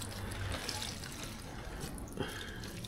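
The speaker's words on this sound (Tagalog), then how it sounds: "Nagtapon din ng tubig." Water spilled or poured out of a bucket, a steady splashing and trickling wash that runs for about three seconds at moderate level, with a brief change in texture near the end.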